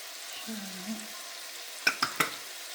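Food sautéing in a home kitchen pan, thyme and red pepper flakes added, gives a faint steady sizzle with three sharp utensil clinks near the end.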